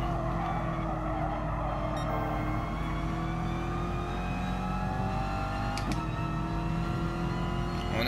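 Racing car engines drone steadily in Gran Turismo Sport as a BMW closes in from behind, a continuous, even roar with harmonic pitch and a brief sharp transient near the end.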